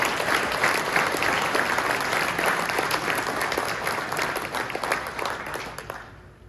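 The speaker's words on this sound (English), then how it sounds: "Let's give all of those guys academic MVPs a round of applause." A banquet-hall audience at a high school football awards dinner applauds warmly, a dense steady clapping that swells and then tapers off toward the end.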